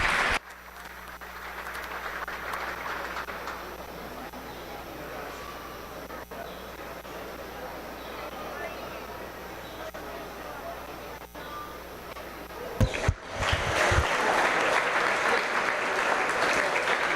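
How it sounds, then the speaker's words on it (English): Crowd clapping at a livestock swine show arena, a sustained patter of hands in a large space with background hum and murmur, swelling louder after a sharp clatter near the end. "Give them all a big round of applause."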